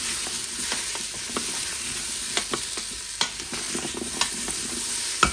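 A utensil stirs vegetables and onion sautéing in an Instant Pot, with a steady sizzle underneath and a series of distinct scraping and clacking strokes against the pot, some sharper knocks standing out near the end.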